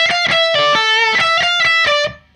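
Distorted electric guitar plays the first bar of a riff, a quick rhythmic run of picked notes with palm-muted low chugs, loud and close, then fading out.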